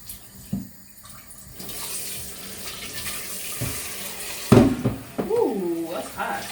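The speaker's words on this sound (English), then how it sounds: "Just going to rinse it down." Hot tap water runs steadily into a kitchen sink as dishes with bean residue are rinsed, with a few knocks of crockery, a brief voice and a rising water sound near the end.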